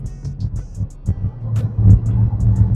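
A used cruiser car bought for under 1k, with new coil packs and spark plugs, runs on a ride, its engine a low, steady, throbbing rumble close by with slight swells.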